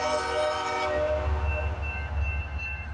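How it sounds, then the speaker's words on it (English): A CPKC 528 freight train passes Delray Junction with a sustained, fairly loud horn chord over the low rumble of the moving train, heard from nearby with no talking. "So symbol on this train is CPKC 528 from Mason City, Iowa."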